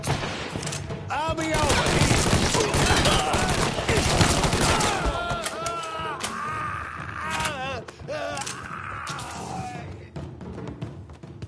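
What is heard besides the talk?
gunfire in video game Mafia III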